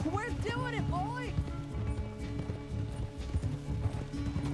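Rhythmic hoofbeats of a galloping horse in Red Dead Redemption 2 under loud, excited shouting, with game music and effects layered over the pounding.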